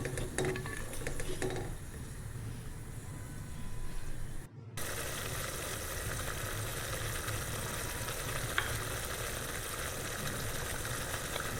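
Ginger-garlic paste and ground peanut masala sizzle in a pot while a spoon stirs them, a steady low hiss that runs the whole time with faint scraping and no talking.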